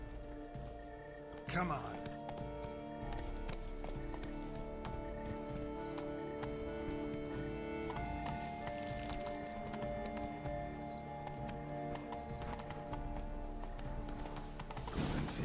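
A horse gallops in The Witcher 3, steady rhythmic hoofbeats under game music, with a neigh near the start and a man's brief spoken words in the middle.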